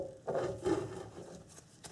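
A new CV axle is slid into a Subaru EJ25 differential: short scraping, rubbing strokes of metal against metal, close and quiet, with a light knock at the end.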